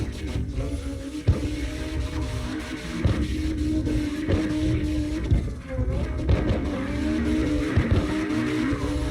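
Three cars drift in tandem in CarX Drift Racing Online, engines droning loud and close with revving surges, tires squealing and skidding throughout, and a few sharp mechanical clunks punctuating the run.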